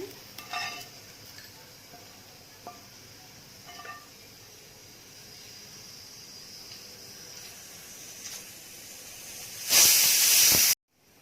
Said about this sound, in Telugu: ఇప్పుడు ఈ పోపుని మనం ఇలాగా పచ్చడి పైన వేసుకుందాం